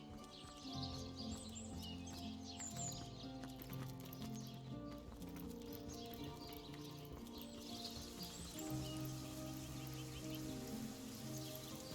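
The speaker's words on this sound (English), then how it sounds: "And it started raining" Steady rainfall in a video game, soft and continuous, sits beneath layered game music with sustained tones, alongside occasional clip-clop-like taps and faint bird calls.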